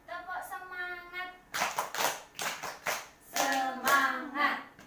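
A group of participants clapping the 'tepuk semangat' chant in rhythmic bursts of claps, alternating with a voice leading and a group responding in a lively indoor session.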